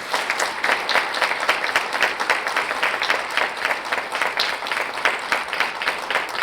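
Sustained audience applause welcoming a speaker at a women's leadership event, steady dense clapping from a crowd filling the room throughout.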